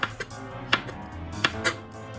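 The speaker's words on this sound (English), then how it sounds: "After all vegetables are cleanly rinsed and strained, slice your cabbage, tofu, and mushrooms thinly." Knife slicing cabbage, tofu and mushrooms thinly on a board, four or five sharp chopping knocks at uneven intervals, close and clear with no voices.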